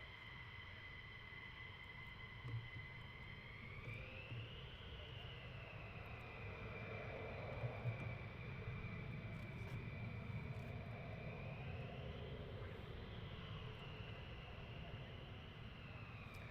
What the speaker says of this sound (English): I go dead quiet if they depart, so you can listen to the roar of the engines